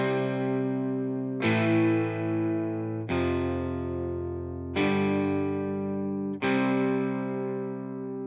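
Sampled acoustic guitar from a software library strums five separate chords, each a bright, full attack that rings and sustains until the next, evenly spaced and close.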